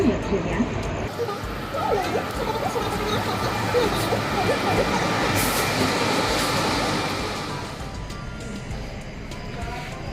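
A passenger train stands at a station platform, its idling rumble and rail noise steady throughout, with busy platform crowd noise and people talking nearby.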